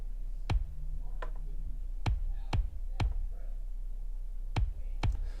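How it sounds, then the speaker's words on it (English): A kick drum sample from a song played solo, sharp punchy thumps at irregular intervals over a faint low hum, about eight hits in all. "So this is the kick sample by itself right here."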